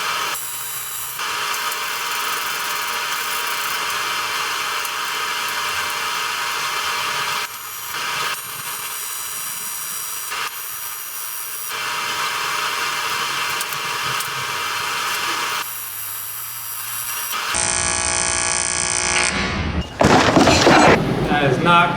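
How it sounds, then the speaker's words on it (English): Tack welding on WRX intercooler piping gives a loud, continuous crackling buzz that starts and stops in several bursts, followed by sharper clatter near the end. "I could probably melt that into the bracket. That'll give me my second tack weld"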